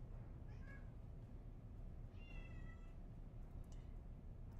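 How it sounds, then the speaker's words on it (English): A cat meows a few times at a distance, thin plaintive cries sounding over a steady low background rumble. "she's over there meowing her poor little sad heart out"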